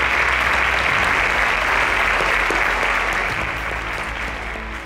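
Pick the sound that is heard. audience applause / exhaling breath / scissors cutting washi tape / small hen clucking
audience applause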